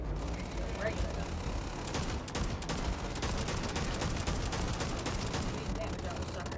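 Rapid gunfire from a regular gun in Starfield crackles in dense repeated bursts, loud and close across the whole stretch, with a voice talking over it.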